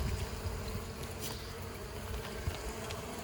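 Honeybees swarm around an open hive during queen-rearing work, a steady dense buzzing drone that holds close and fairly loud throughout, with no voices.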